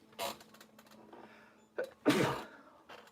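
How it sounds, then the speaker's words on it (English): A person sneezes close to the microphone: a short intake and small burst, then a pause, a catching breath and one loud, forceful sneeze with faint breathing afterward. "Oh, man, I'm about to sneeze."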